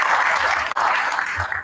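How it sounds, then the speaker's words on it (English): An audience at a school board meeting applauds a debate team, continuous clapping with a brief dip midway, then carrying on at a steady level. "Round of applause for them as well."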